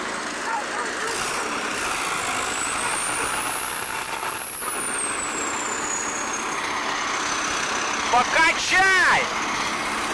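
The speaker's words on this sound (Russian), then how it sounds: "Ты зачем на сцеплении газуешь?" A DT-75 crawler tractor revs with its clutch engaged while straining to haul a heavy scrap-metal truck. The engine holds a steady rumble under a long, rising and falling whine, and brief voices and clanks break in near the end.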